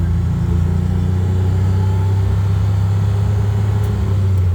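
A small street-legal motor vehicle with a top speed of about 35 mph drives along, its engine giving a steady, close, low rumble that holds throughout with no talk over it.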